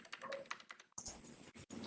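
Rapid clicking keystrokes on a computer keyboard come through close and fairly quiet, in a quick irregular patter with brief pauses, during an online conference session.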